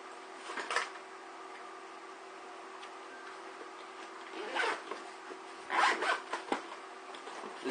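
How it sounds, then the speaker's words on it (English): Zipper pulled shut on a case holding gear, a few short bursts of zipping spread across the stretch against a faint steady hum, fairly quiet with no talk. "The zipping you just heard was me putting it all back together"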